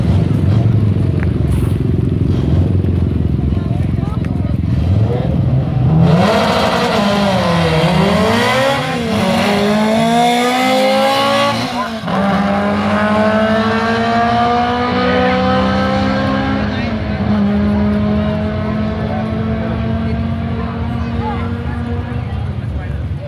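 A Honda sedan makes a drag racing run at Island Dragway during the October 2016 Honda Nationals, its engine loud and close, revving and climbing in pitch through repeated gear changes before holding a high, strained drone.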